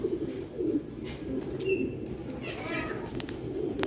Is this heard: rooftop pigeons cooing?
yes